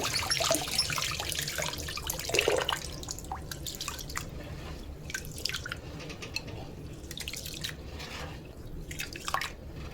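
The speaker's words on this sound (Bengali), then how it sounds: "ভালো করে চাউলগুলো ধুয়ে নেব।" Rice being washed by hand in hot tap water, with steady dripping and splashing close by and brief louder sloshes, no talking.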